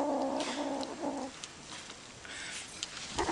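A hungry kitten mews in a few short, close cries at the start, then quieter chirps and squeaks follow with household rustling in the background.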